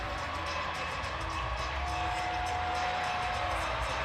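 A hockey arena crowd during the jump around at a Miami RedHawks versus Minnesota-Duluth game, a broad, constant wash of cheering and crowd noise heard from a distance, fairly even in level with no clear peaks.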